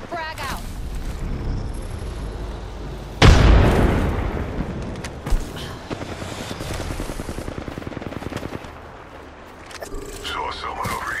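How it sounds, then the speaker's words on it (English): Apex Legends firefight with a heavy explosion boom, then a rapid run of automatic gunfire and scattered shots and pops, mixed under game voice lines and other talk. "Opening fire on our prey"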